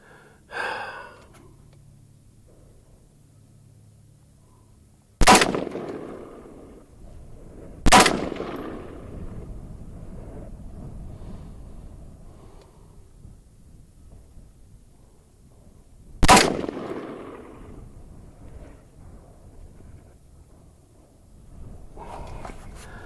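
A rifle fires Frontier .223 ammunition outdoors in three sharp, loud reports spaced several seconds apart, each trailing off in a short echo, with faint breathing and handling noise between shots.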